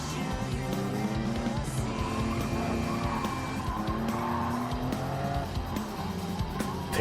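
A race car in Gran Turismo at over 100 mph, engine roaring steadily with tires squealing and skidding, loud and continuous throughout.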